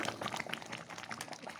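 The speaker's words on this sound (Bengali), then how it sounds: "কিভাবে ফুটছে দেখো" Mung dal with katla fish head boils in a pot, a dense close bubbling and gurgling that continues steadily throughout.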